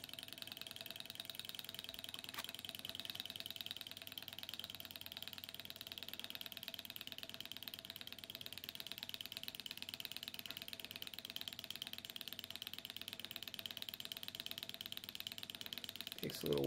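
A Stirling engine drives a window motor, giving off a steady, quiet mechanical whir with a faint ticking rhythm that continues throughout the clip and gets louder right at the end.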